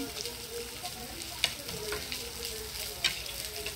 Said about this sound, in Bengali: এবার দিয়ে দেব কাজু বাটা